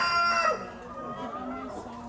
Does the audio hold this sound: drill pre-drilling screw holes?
no